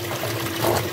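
Water gushes into a tank at roughly 20 liters every six seconds, a loud, steady pouring and splashing rush close by that swells slightly near the end, with no voices.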